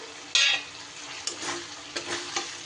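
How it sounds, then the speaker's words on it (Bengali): Quiet stirring and scraping of fried potatoes in spice masala in a pan with soft sizzling, marked by a few sharp metallic scrapes and taps. "এইবার আমি এর মধ্যে ভেজে রাখা আলুগুলো দিয়ে দিলাম।"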